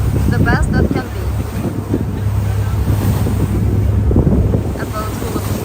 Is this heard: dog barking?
no